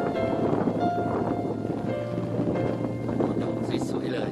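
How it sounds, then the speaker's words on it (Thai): Strong wind blows steadily outdoors in a hospital garden with orchids, just before rain. The gusty rumble and rushing noise stay loud and continuous throughout, with faint background tones. "วันนี้ลมพัดแรงแล้วนะสงสัยฝนจะมานะ"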